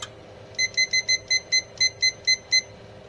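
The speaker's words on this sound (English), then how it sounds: "turn my timer on." A kitchen timer beeps ten times in quick, evenly spaced double-pulses, bright and clear over a faint background hum.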